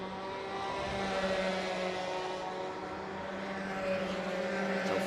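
Racing karts at the Motorsport Ireland Karting Championships at Kiltorcan, their small engines droning steadily at high revs from mid distance, pitch shifting slightly as they hold position on track; no talking.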